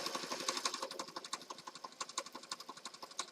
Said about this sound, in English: And we're just going to stitch.